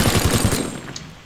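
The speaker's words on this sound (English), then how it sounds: "This minigun is extremely" A minigun fires in the Teardown video game, a brief loud burst of rapid rattling shots that cuts off after about half a second, followed by fading debris and faint ambience.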